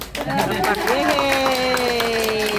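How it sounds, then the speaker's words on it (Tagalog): Clapping and crowd chatter at a 73rd birthday celebration, scattered hand claps under overlapping voices and singing-like tones, close and lively. "Palakpak."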